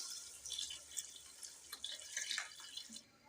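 Water is poured into a pot of soaked basmati rice while making aloo matar pulao, about seven and a half glasses in all. It makes a soft, steady splashing and trickling that stays faint and close, with no voices.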